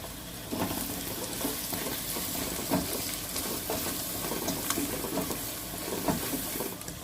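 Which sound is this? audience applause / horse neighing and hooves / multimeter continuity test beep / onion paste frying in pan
onion paste frying in pan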